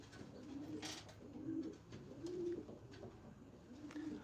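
Pigeons in a breeder loft give soft, low repeated coos, several rolling calls spaced a second or so apart, faint and close against a quiet hiss of room noise.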